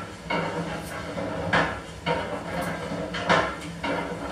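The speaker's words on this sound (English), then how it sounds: "That clapping noise you hear there is the slide valve on the low pressure cylinder." A 1903 stationary steam engine at Sleaford runs with its low-pressure cylinder slide valve clapping, sharp knocks recurring roughly every half second to second over a steady mechanical rumble, close and fairly loud.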